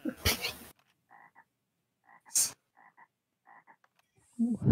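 In a VR Chat social space, a frog croaks in short repeated paired bursts, fairly close, interrupted by louder sharp noises and laughter.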